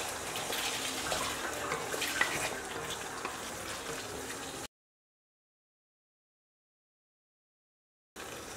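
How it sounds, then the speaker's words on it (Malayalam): Mutton is tipped into a hot pan of thick masala for Kerala-style ghee roast and stirred, giving a dense, steady sizzle and scraping. It cuts to silence midway, then the frying sound returns briefly. "ഈ ഒരു സമയത്ത് നമുക്ക് മട്ടൺ ഇട്ട് കൊടുക്കാം. എന്നിട്ടിത് നന്നായിട്ടൊന്ന് മിക്സ് ചെയ്യാം."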